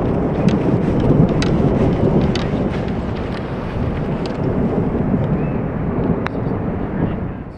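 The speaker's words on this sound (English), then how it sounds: "the thunder is almost continuous now" Thunder rolls almost without a break over a golf course during a lightning storm, a loud low rumbling mixed with gusting wind buffeting the microphone and sharp crackles.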